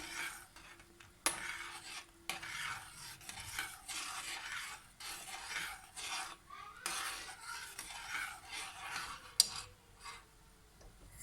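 A spoon stirring mushroom soup in a pot, a steady run of soft scraping and swishing strokes with brief pauses, close and fairly quiet.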